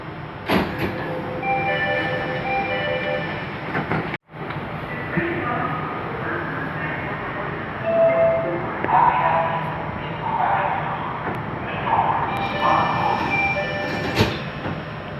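A Jakarta MRT train rolls between stations with a steady, continuous rumble and whine inside the car, briefly cutting out once before resuming under intermittent background voices.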